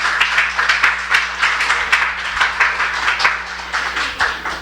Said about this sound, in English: Can we have another round of applause for the readers?